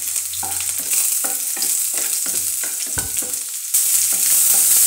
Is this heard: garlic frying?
yes